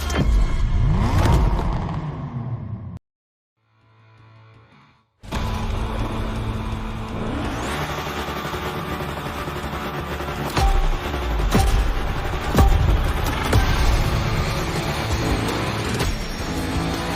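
Car engines rev and roar in The Crew Motorfest racing game, loud and continuous, broken by a brief near-silent gap before the dense engine noise resumes with sharp bursts.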